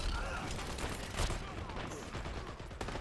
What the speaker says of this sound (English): A lot of artillery strikes coming on down